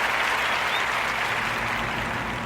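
Steady applause from a crowd for a group being praised, filling the whole stretch at an even level with no pauses and no talk over it.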